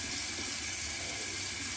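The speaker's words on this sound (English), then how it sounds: "Now I'm gonna rinse off with cold water, close the pores" Cold tap water runs steadily into a sink for rinsing after a wet shave with a safety razor, a faint, even hiss with no voices.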